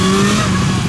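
A Honda CB400SF 400cc motorcycle on a gymkhana course, its engine loud and close with a steady high-pitched drone briefly sustained under acceleration, no voices.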